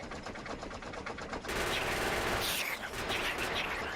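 Gunfire against approaching enemy troops in the factory-building game Factorio, rapid bursts of automatic shots that rise into a louder, denser volley halfway through.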